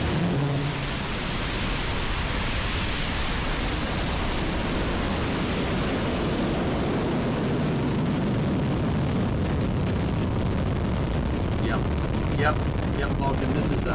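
A Vulcan aircraft flies past in Kerbal Space Program as a loud, continuous broadband roar that fills the whole stretch, its tone shifting slightly about halfway through, with no other sounds standing out.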